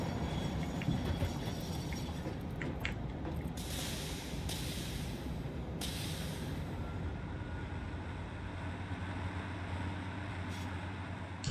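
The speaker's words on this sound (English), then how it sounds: "I'm literally waiting for a train." A train in the game Satisfactory rolls by as a steady, broad rumble that holds at an even level throughout, with brief hissy bursts partway through.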